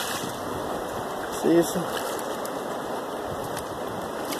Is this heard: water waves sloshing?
yes